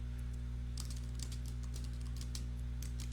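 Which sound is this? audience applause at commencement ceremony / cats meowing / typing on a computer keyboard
typing on a computer keyboard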